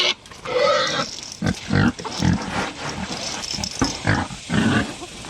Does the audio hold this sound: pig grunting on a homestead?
yes